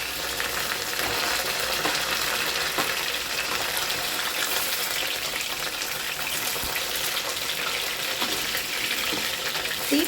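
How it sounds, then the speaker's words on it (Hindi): Fish frying in a pan over high heat, a steady broadband sizzle that holds evenly throughout at moderate loudness, close up and with no talk over it. "तो इसलिए तेज़ आंच पे हमें फ्राई करना है।"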